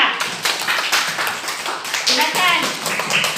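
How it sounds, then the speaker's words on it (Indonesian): Classroom applause for a student group, a busy patter of many hands clapping under overlapping chatter and voices. "Selesai, tepuk tangan dulu untuk kelompok 2."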